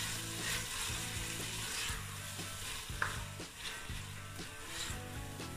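Minced meat (keema) frying in a pan, a steady sizzle with rhythmic spatula scrapes and stirring strokes repeating roughly every second.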